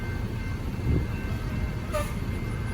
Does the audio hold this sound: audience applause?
no